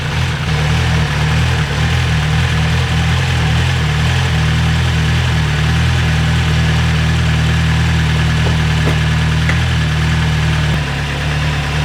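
An MV Agusta 1090R liter-class sport motorcycle idles loudly and steadily up close, a deep continuous engine rumble with a slightly uneven pulse throughout, no voices present.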